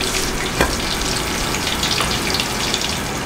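Butter sizzling and frying in a hot pan while bread toasts, alongside fish cooking. A steady, loud hiss with faint crackles and one small pop, no voices.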